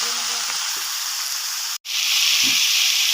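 Potatoes are dropped into hot oil for a jackfruit vegetable curry, setting off a loud, steady frying hiss. It breaks off briefly and then returns with a couple of soft thuds and a low murmur underneath.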